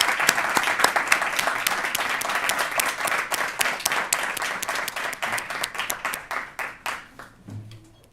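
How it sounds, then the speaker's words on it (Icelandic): Sustained applause from an audience at an awards ceremony in a hotel hall, honouring nominees who have stood; dense, steady clapping that thins into scattered individual claps near the end. "Glæsilegur hópur, við ætlum að klappa fyrir þeim."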